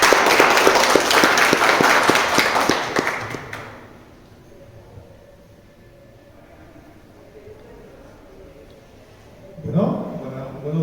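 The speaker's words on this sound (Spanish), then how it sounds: "Lo recibimos con un aplauso." Audience applause at an academic seminar on death studies, a dense burst of many hands clapping for about four seconds before fading into quiet room tone, with a brief voice or movement near the end.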